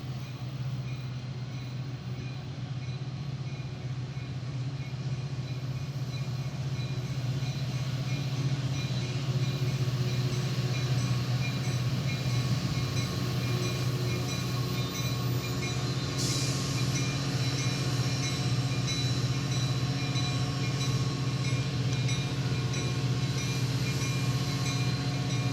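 An outbound Metra commuter train rolls past at Wheaton, Illinois, on the Union Pacific Geneva Subdivision, a loud sustained rumble with a deep hum and metallic ringing tones, steady throughout with a brighter shift partway through.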